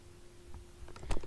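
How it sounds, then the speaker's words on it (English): A few quiet keystrokes tap on a computer keyboard as text is typed, faint scattered clicks over a low electrical hum with no talking. "I am typing a text."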